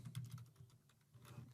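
Quick, soft keystrokes tap out a name on a computer keyboard, sounding as a close, irregular run of light clicks with a short pause in the middle.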